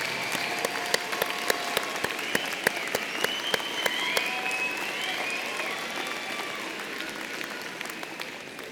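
Sustained applause from a large commencement audience honouring graduates' families, steady dense clapping with sharp individual claps standing out, continuing throughout without voices.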